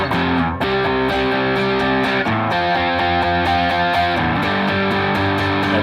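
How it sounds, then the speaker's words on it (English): Distorted electric guitar strums heavy power chords of a song in a steady rhythm, loud and sustained, with a few chord changes and no talking. "So you could just play it with the power chord."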